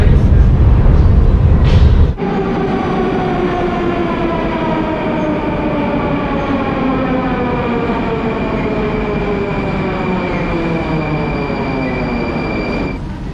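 A Moscow metro train glides along with a rising electric motor whine and rumbling wheels, loud and close, after a brief burst of noise at the start.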